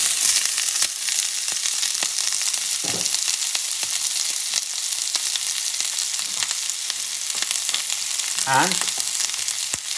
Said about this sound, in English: Put a little bit of oil. Not a lot, just a little bit. Because what you're going to do now, you're going to saute this onion.